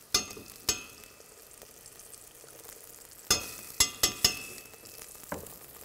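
Oil sizzles steadily in a hot pan for a lamb nwasser dish before tomato paste goes in, broken by several sharp metallic clinks of a utensil against the pan.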